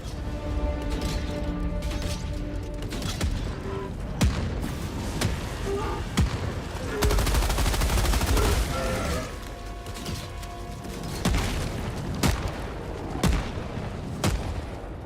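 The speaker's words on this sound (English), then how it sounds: "My own mortar just hit me." Mortar fire and explosions in the video game Helldivers 2, with repeated booms and blasts in a dense, continuous barrage of game combat noise, loudest in the middle, while players talk over it.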